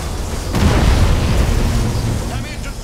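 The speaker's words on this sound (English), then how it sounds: "Initiate Thunderhawk bombardment" Heavy explosions from a Thunderhawk bombardment in the space strategy game Battlefleet Gothic Armada 2, Raven Guard against Chaos: a deep rumbling boom swells in and rolls on as a loud sustained roar.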